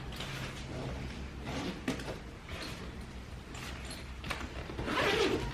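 Zippers on a huge travel bag are tugged open in several short rasping pulls, ending in a longer, louder zip, close by with no talking.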